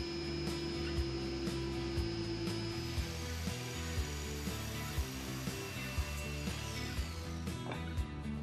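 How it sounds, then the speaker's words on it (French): Steady mechanical whine of a miter saw running throughout, with regular rhythmic thumps and grinding as it cuts through a clamped wooden log, fairly close and continuous. "Utilisez une scie à onglet pour couper le rondin."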